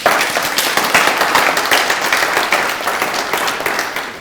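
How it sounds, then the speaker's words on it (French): A studio audience on a French talk show claps steadily for a guest named Lorraine, dense and even applause filling the room throughout. "Applaudissements pour Lorraine."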